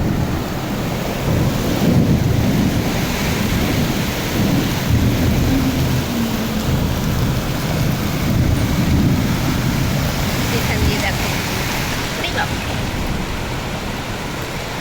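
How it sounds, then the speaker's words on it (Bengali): Heavy rain pours steadily in a thunderstorm, a loud broad roar of falling water with low rumbling swells of thunder rolling through it. "প্রচন্ড জোরে বৃষ্টি হচ্ছে"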